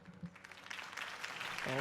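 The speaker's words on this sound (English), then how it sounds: "If only Mr. Wayne, my campaign's largest backer, could have heard that applause" A crowd applauds in the Batman: The Telltale Series video game, the clapping swelling in volume toward the end while a voice speaks over it.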